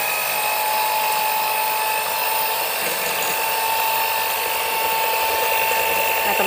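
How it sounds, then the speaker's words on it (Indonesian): An electric hand mixer on its highest speed setting beats egg yolks for an old-style sponge cake, a steady high whine running continuously throughout, with a voice speaking briefly over it. "kuning telur ini kita harus kocok sampai mengembang putih dan juga kental berjejak ya"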